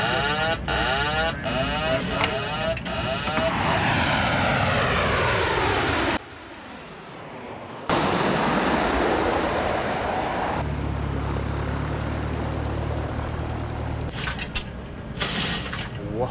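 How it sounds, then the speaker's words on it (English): A light airplane taxiing on a runway, a loud propeller engine drone that rises and falls in pitch as it passes, briefly cut and then resuming, with a steady low hum later on. "He's taxiing on the runway."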